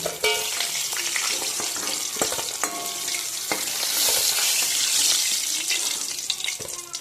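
Katla fish pieces fry in hot oil with a steady, loud sizzle and crackle, broken by clinks and scrapes of a utensil against the pan.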